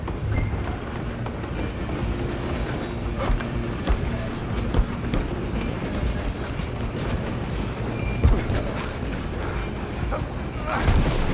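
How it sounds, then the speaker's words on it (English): A train rumbles along continuously in Red Dead Redemption 2, with a dense clattering of wheels and rolling noise running loud and close throughout, while voices shout over it. "You stop them, I'll stop the train."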